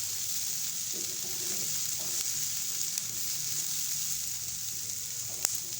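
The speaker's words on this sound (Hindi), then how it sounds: "शिमला मिर्च को हम सिर्फ सॉटेड करेंगे" Green capsicum sautéed in a pan, a steady soft sizzle that runs throughout with a few faint stirring knocks and one brief click near the end.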